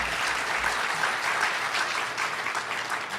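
Steady audience applause at the Oklahoma City mayoral debate, a dense continuous patter of clapping from a room full of people that holds at an even level throughout.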